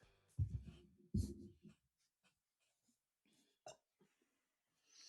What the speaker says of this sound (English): One last burp.